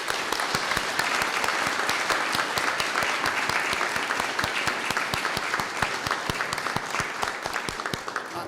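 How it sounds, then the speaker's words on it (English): Audience at a city council candidate forum in Jefferson, Iowa applauds the candidates, dense steady clapping filling the room at a fairly loud level for the full stretch, no talk over it. "Let's give all the candidates a round of applause."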